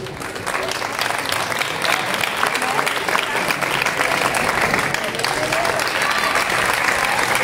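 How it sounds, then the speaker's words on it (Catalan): Audience applause for young candidate Eric, age 9, at a Catalan casting for La Cucafera's princess and knight, a dense, steady clapping that holds at full strength from start to finish. "Un aplaudiment per l'Eric."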